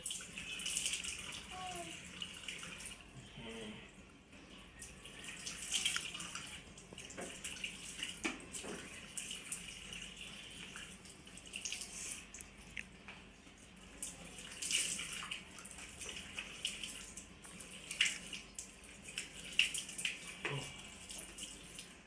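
Water runs steadily from a tap while a face is rinsed clean after a facial, with splashes and hand rubbing audible through a continuous low wash.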